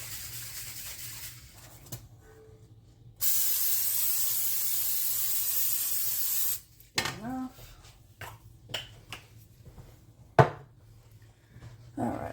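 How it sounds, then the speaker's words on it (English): A steady hiss of non-stick cooking spray onto a skillet runs for about three seconds, followed by scattered clinks and scrapes of cookware and a voice speaking briefly nearby. "The second skillet, I'm just going to use some spray non-stick."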